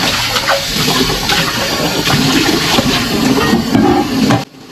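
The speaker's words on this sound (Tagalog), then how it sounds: "dahil ang ingay-ingay ng gripo" Loud, continuous rush of running water splashing from a faucet, cutting off abruptly at the end.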